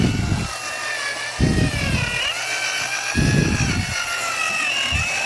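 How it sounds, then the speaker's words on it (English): A slow-speed drill with a small bit grinds carbon deposits from a Honda Super H cylinder head, whining steadily and close with shifting pitch, while low rumbling bursts break in and out beneath it. "I have a slow speed drill"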